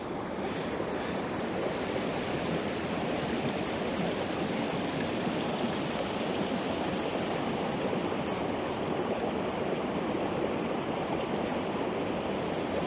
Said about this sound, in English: normally when you get rushing water you get a lot of high frequency sizzle. But this has got like a boom to it